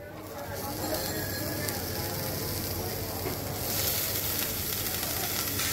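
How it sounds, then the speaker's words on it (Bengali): Chopped bottle gourd hits a hot pan over fried lentils for a Bengali lau chorchori, giving a steady broadband sizzle that runs throughout under faint background noise. "এখন আমি এর মধ্যে দিয়ে দেব লাউ কুচি"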